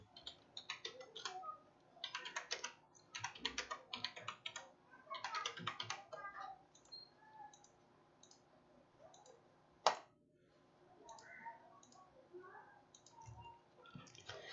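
Someone types an application number on a computer keyboard: quick bursts of close, crisp key clicks separated by short pauses, with one sharp louder click near the end, in a quiet room.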